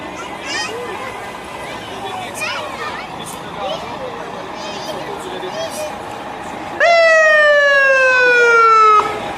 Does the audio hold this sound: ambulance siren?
yes